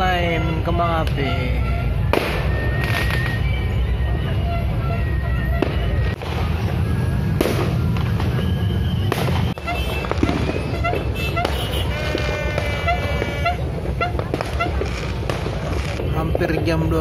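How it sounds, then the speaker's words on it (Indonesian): New Year 2019 fireworks going off at Taman Mini Indonesia Indah: scattered bangs and crackles over a steady, dense wash of crowd and street noise, fairly distant and continuous. "Setengah 11, ada yang mulai nyalain kembang api."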